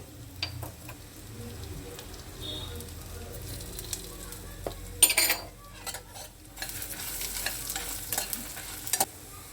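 Cumin and coriander seeds frying in a pan with green chillies, giving a soft crackle and sizzle broken by sharp clinks of a spoon against the pan, with some talk around it.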